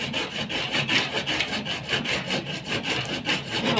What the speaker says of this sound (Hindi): ये इसका थोड़ा साइज़ बड़ा था, तो अभी हम आरी से काट रहे हैं